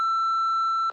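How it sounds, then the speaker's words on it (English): A steady electronic voicemail beep from a Family Guy answering-machine scene, one sustained tone that holds for nearly a second before cutting off cleanly, heard alone. "Please leave a message at the beep."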